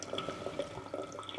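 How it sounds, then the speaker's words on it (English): Hot water from a kettle trickles into a container for a chemistry preparation, a quiet, close, irregular dribbling and dripping with small liquid plinks. "just gonna add a little bit of hot water."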